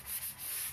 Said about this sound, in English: I use a fine sanding sponge